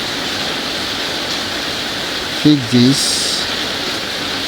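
Steady rain on a rainy day fills the whole clip with an even, broadband hiss, and a voice speaks a word or two briefly near the middle.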